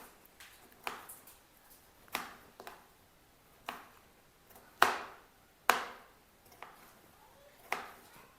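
Knife chopping onion and tomato on a cutting board for a paste, a series of sharp, separate taps at irregular intervals, close and moderately loud, with no talking.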